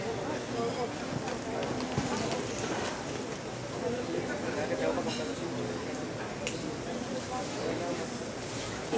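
A charro's horse breaks into a full gallop during a charreada show at Xcaret, its rapid hoofbeats drumming steadily through a dense wash of arena noise, with speech and birds audible in the background.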